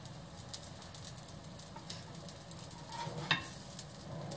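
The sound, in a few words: food sizzling in a very hot frying pan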